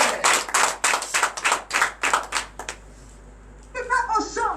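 Congregation clapping in acclamation at a morning prayer service, a loud rhythmic burst of claps that stops abruptly, followed by a brief voice.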